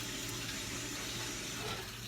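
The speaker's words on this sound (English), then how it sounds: "And then I'm just going to quickly go wash my hands." Kitchen tap water running while hands are washed, a steady close rushing hiss that stays level throughout, with no voices.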